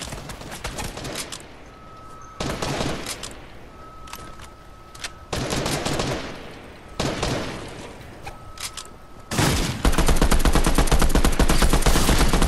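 SMG gunfire in the video game Fortnite, several bursts of rapid automatic shots separated by short pauses, ending in a longer sustained loud volley.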